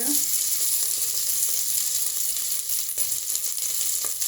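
Green chilies, potato, beans and carrot fry in a hot pan with a dense, steady sizzle and occasional crackles and stirring scrapes, close and continuous.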